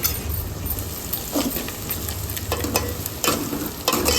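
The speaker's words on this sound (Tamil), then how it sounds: "கொஞ்சம் வெங்காயம் வந்து கொஞ்சம் நல்லா வதங்கணும்." Onions fry in a pan for a Madurai-style country chicken gravy, giving a loud close sizzle with bursts of spatula scraping and light clinks against the pan.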